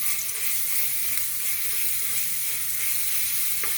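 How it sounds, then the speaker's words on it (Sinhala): A freshly ground paste hits hot coconut oil in a pot, giving a steady, close, bright sizzle that holds evenly throughout with faint stirring. "තෙල් එක රත් වෙනකොට ඉස්සලා හදාගත්තු පේස්ට් එක දාගමු"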